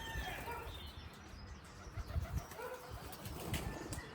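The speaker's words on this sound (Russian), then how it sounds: "Слышите, птицы?" Birds at dawn in the mountains of Gran Canaria, with a mix of soft calls and coos and a brief flutter of wings over a low outdoor rumble, all fairly distant.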